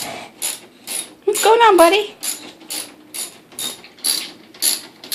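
Rhythmic mechanical clicking from a Kenmore Oasis washing machine repeats roughly every half second, loud and close, while someone briefly speaks over it.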